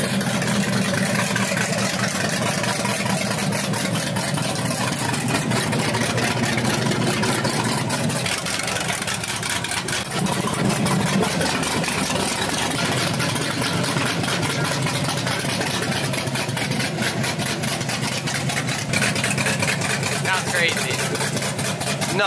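An LS3 V8 swapped into a Porsche 911 idles loudly and continuously for over twenty seconds, a thick, steady rumble right up close, with people talking over it at times.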